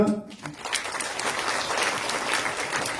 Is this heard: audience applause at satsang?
yes